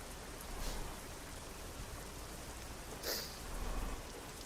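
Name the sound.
rain in a truck driving video game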